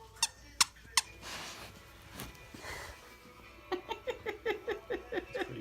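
A squeaky toy squeezed indoors gives three sharp, loud squeaks, then a pause with soft breathy noise, then a quick rhythmic run of about nine squeaks close by.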